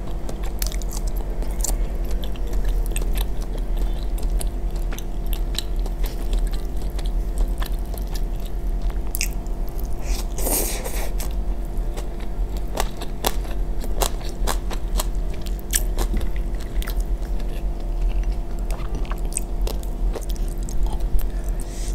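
Steady close-up chewing and crunching of jengkol, kangkung and crispy tempeh during a home-cooked mukbang, continuous wet bites and crackles throughout with no talking.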